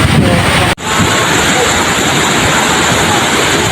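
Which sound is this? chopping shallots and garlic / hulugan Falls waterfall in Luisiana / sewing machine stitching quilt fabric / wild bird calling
hulugan Falls waterfall in Luisiana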